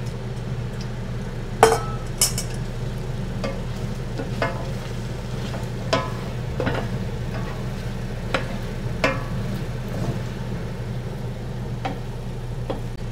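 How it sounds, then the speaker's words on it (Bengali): Goat meat dropped into a hot pot with whole spices such as cinnamon, giving a steady low sizzle with scattered clinks and ticks of utensils against the pot, close and alone with no talk. "মাংস দিয়ে দিচ্ছি।"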